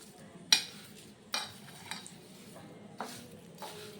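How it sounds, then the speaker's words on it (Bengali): Crispy fried raw rice stirred in a pan, quiet rustling with a few sharp clinks and scrapes of a utensil against the pan, close and sparse. "ভালো করে মিশিয়ে নিচ্ছি, দেখুন একেবারে মুচমুচে খাস্তা চাল ভাজা।"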